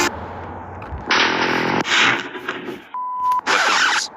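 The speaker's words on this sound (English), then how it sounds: "Let's do a TNT explosion test" TNT blowing up in the Minecraft video game: several loud, noisy bursts follow one another, with a brief steady tone between the last two blasts and no voices.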